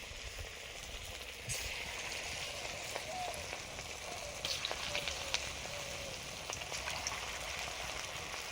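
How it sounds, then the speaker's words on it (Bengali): Fish frying in a pan, a faint, even crackling sizzle with tiny pops scattered throughout, quiet and continuous, no talk over it. "ফিশের মাছগুলো এবারে ভাজা শুরু করছি"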